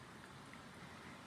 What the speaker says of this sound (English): it is pouring rain outside of my window right now